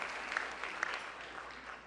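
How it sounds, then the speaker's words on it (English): A dinner audience at the White House Correspondents' Association event breaks into applause: a brief, faint burst of clapping with a couple of sharper peaks, fading slightly by the end. "Give him a big round of applause."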